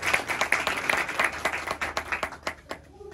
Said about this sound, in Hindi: खुदा उनके कलाम के लिए तालियां बजाएं।